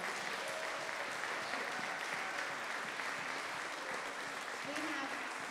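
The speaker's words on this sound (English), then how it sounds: "We would love for you all to give these people the hugest round of applause." A church congregation applauds together in a steady, dense wash of clapping that holds evenly throughout, with a faint murmur of voices mixed underneath.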